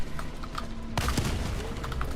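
Rapid strafing gunfire from an aircraft in Helldivers 2 erupts in a dense burst of loud cracking shots with a booming onset, overlapping a busy battle din without speech.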